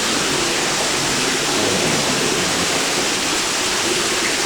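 Water rushing steadily over a natural limestone formation, a dense, continuous wash of noise like a close waterfall, loud and unbroken, with no voices.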